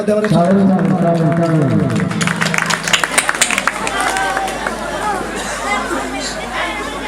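An audience at a Ras Purnima puja committee gathering in Baliapal claps for an honoured guest, a retired teacher; scattered applause and crowd chatter follow someone speaking over a PA.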